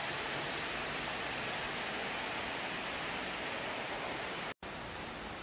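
Water pours over a weir on the River Thames in a loud, steady broadband roar that stays constant throughout, broken only by a momentary cut near the end, with no voices.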